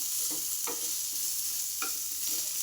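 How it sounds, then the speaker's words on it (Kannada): Masala fries in about a tablespoon of oil in a pan, giving a constant hissing sizzle with a few light scrapes and taps of a spoon stirring it, near and unaccompanied by speech. "ಈ ಥರ ನೀಟಾಗಿ ಫ್ರೈ ಮಾಡ್ಕೋಬೇಕು ಮಸಾಲೆಗೆ"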